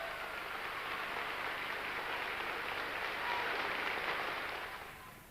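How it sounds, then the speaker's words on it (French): A long ovation for Stalin in archival footage: a dense, even roar of crowd applause, somewhat muffled, that holds steady and swells slightly before easing at the end. "L'ovation qui salue Staline est particulièrement longue."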